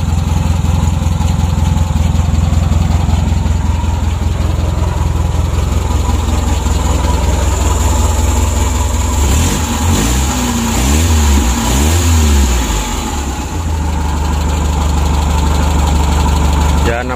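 A worn motorcycle engine that needs rebuilding and gives off heavy exhaust smoke runs loud and close at a rough idle, then is revved several times before settling back, while someone talks over it.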